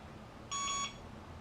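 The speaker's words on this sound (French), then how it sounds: "vous avez entendu un bip, vous voyez votre drone clignoter" A single steady electronic beep from a small quadcopter drone during gyroscope calibration, a bright tone lasting about a third of a second, fairly close and alone.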